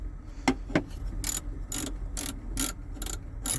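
Dash gauge panel screws are being backed out on a Freightliner Classic FLD truck, heard as close, repeated short ratcheting clicks in regular bursts with a couple of sharper metallic taps early on, no talk.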